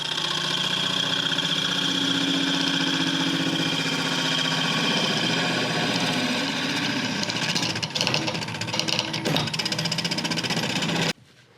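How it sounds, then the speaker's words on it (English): A wood lathe spins at about 900 RPM while a homemade hollowing tool cuts inside a turned piece, giving a steady droning hum with scraping, chattering cuts that grow rougher toward the end before stopping abruptly. "to finish my hollowing with my special made hollowing tool here"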